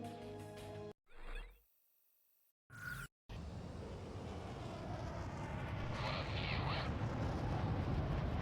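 A jet fighter powers up for takeoff in Ace Combat 6, after short tonal menu sounds and silent gaps, a steady loud engine roar builds into a continuous rushing thrust that swells toward the end.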